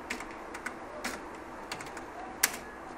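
Computer keyboard being typed on at a Linux terminal, quiet scattered keystrokes in short irregular bursts with one sharper key press near the end, close and alone.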